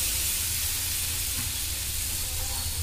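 Boondi batter drops from a spoon into very hot oil, giving a steady close sizzling and frying hiss with no pauses and no talk.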